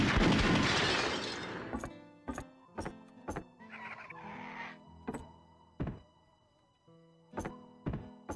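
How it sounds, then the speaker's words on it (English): A bottle shot and shattering in Duke Nukem Zero Hour: a loud burst of breaking glass opens, then a string of sharp, evenly spaced gunshot-like thunks with short ringing tails runs on alone. "There's a bottle I can shoot?"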